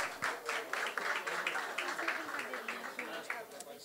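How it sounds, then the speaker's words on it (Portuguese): Audience applause at a Rio de Janeiro energy and sustainability startup event, a steady wash of many hands clapping that continues for several seconds, fairly close and moderately loud. "Uma salva de palmas para o Roberto também."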